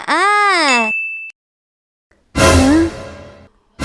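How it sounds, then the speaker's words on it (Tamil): A short electronic WhatsApp message notification ding sounds right after a loud, wailing voice, followed by a pause and then more loud voices. "WhatsApp message"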